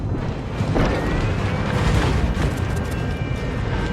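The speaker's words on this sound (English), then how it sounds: "We've sunk an enemy destroyer." An enemy destroyer blows up in a naval video game, a dense, sustained roar of explosion and rumble at close range with crackling debris and no speech.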